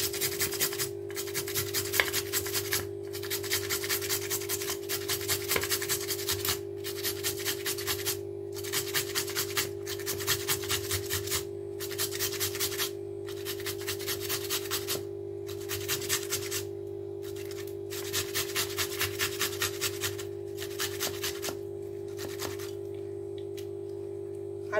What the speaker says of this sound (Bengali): আলুটা এমনি করে আমি ঘষে নিয়েছি